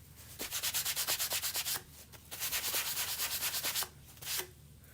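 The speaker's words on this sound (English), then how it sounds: "I'm going to buff it in. Just kind of rub it quickly with a little bit of pressure." Quick back-and-forth rubbing strokes buff wax into a painted surface, two bursts of rhythmic, close swishing with a short pause between and a final single stroke, no voices.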